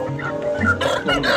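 A Pelung chicken clucks close by in a short run of throaty, uneven calls, loud and clear with no talking over it.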